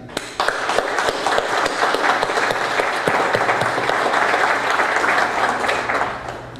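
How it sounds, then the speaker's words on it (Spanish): An audience at an evening book launch breaks into a sustained, loud round of applause for a visiting author, dense clapping holding steady for several seconds before tapering off at the end. "les pido comedidamente que le brindemos un sonoro aplauso al distinguido visitante"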